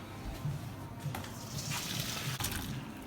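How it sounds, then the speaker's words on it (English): Water being poured off boiled potatoes after about ten minutes of simmering, a steady close gushing splash into a sink with faint kitchen clatter underneath. "Drain all the water off of them."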